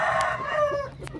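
Chickens, a hen and a Darag rooster, close by, with a drawn-out crowing or clucking call and a few short sharp clicks.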